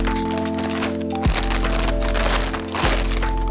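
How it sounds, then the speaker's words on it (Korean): Plastic vinyl wrap is pulled off an NZXT N7 Z490 motherboard, giving close crackling and crinkling over a steady electronic hum, with two sharp tearing thumps partway through. "바로 이 비닐을 벗겨볼까요?"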